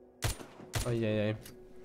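Two sharp gunshots in the zombie survival game Walking Zombie 2, each a loud crack with a short tail, about half a second apart, followed by a sustained tonal synthetic whine and a faint later echo.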